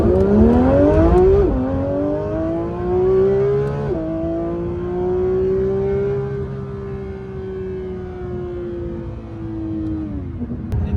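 A 2025 Porsche 911 GT3 RS accelerates hard and loud through the gears, its engine note climbing steeply, dropping at each shift, then holding a sustained high wail before a final shift, with no talking.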